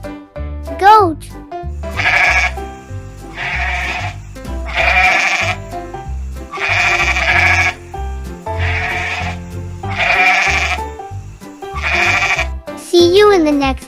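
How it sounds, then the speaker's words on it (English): A goat bleats in short wavering calls over upbeat children's music, with a voice speaking between them. "goat"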